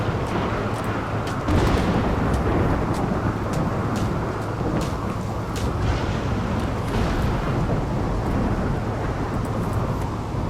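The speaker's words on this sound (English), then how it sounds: "The lightning has struck 4 times in that single spot." Thunder from lightning strikes in the game RimWorld, a long, loud rumbling roar with sharp crackling bursts throughout, steady and dense with no voices.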